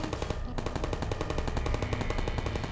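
Turrets in the video game Portal fire a rapid, unbroken machine-gun stream of regularly pulsing shots, dense and steady throughout, with a brief dip in the high end near the start.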